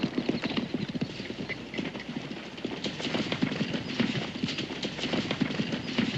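Horses' hooves clip-clop steadily on the ground as a hitched horse-drawn wagon moves along, a continuous, fairly close rhythmic clatter with no talk.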